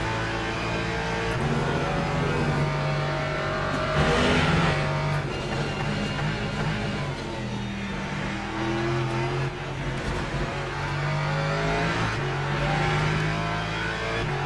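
Race car engines in the Le Mans Ultimate sim racing game drone steadily throughout, shifting pitch as cars run close together in a pack, with occasional rises and brief tire noise, loud and without talk.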